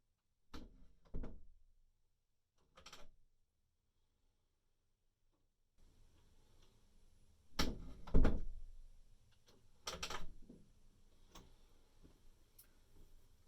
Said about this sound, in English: opening the closet door turns the light on, and closing the closet door turns the light off.